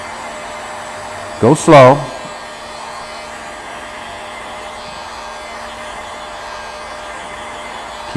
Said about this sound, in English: Remember, your heat gun's hot, so watch your fingers.